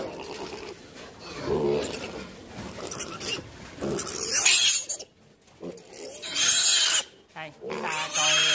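A pig being treated for yellow diarrhea on a farm grunts and squeals in bursts, close and fairly loud, with someone talking over much of it.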